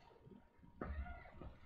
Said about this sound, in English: She's gonna be meowing.